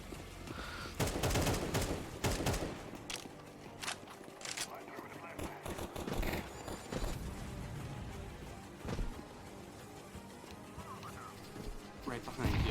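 AK rifle gunfire in Counter-Strike 2, heard as bursts and single shots mixed with footsteps and impacts, running steadily through the clip at moderate loudness while people talk throughout.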